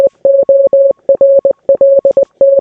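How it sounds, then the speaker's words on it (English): Morse code beeps spelling out "hello world": a single steady mid-pitched tone keyed into short dots and longer dashes, grouped with brief gaps between letters, loud and clean with no other sound. "that is what it sounds like to say hello world in Morse code"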